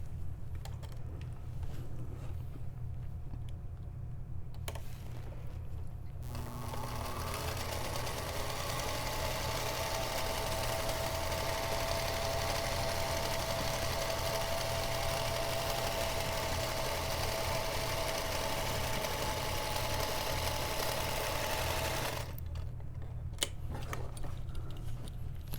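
A sewing machine stitches a pinned quilt insert panel, running in one long steady burst of close mechanical whirring for about fifteen seconds, with a low background hum before and after.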